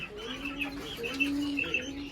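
Quail kept in cages call with soft, thin chirps and low sustained coos, several birds overlapping at moderate distance against a quiet background.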